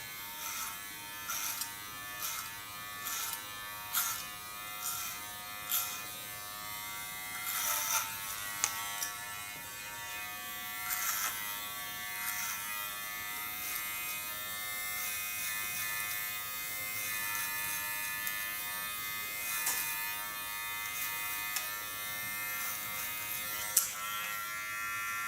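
Electric hair clipper cutting hair during a punk make-over, a steady buzzing drone with repeated short bursts as the blade passes through hair, close and alone with no talking.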